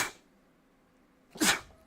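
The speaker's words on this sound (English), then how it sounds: "Sneeze all over the mic." A single sharp sneeze bursts close to the microphone during a finance talk stream, preceded by a brief breathy noise and otherwise near silence.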